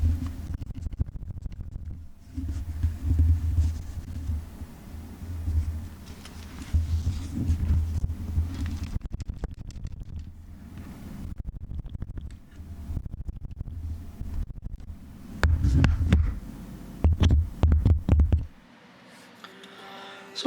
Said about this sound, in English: So now let's do a quick vibration test.